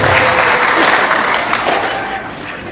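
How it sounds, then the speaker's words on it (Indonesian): An audience claps loudly and steadily for Ibu Lirik at an aid handover and AI training event for teachers, a dense, sustained round of applause. "kita beri aplaus untuk Ibu Lirik"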